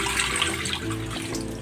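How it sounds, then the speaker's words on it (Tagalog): Water pours steadily from a container into a wok for a Chinese-style fried chicken dish, a continuous close splashing and gurgling rush with no talk. "Maglalagay na ako ng tubig dito sa kawali."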